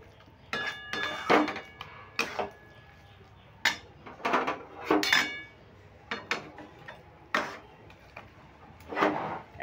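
Cooked ash gourd ghonto made with Gobindobhog rice, mung dal and coconut is ladled into a bowl, with a series of sharp metal utensil clinks and scrapes against the pot and bowl, close and fairly loud, in uneven bursts.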